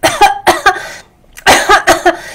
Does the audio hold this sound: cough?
yes